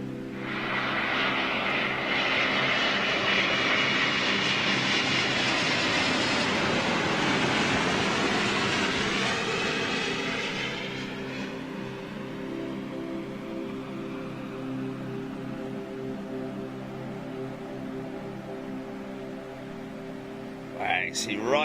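Jet airliner engines roar loud and steady for about ten seconds, then settle into a lower, continuous rumble, with people talking over it.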